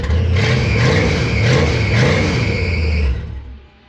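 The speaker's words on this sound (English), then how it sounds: "The good news is the exhaust sounds insane." A car engine revs hard through a loud, raspy exhaust, a close and aggressive roar that surges a few times before cutting off and fading.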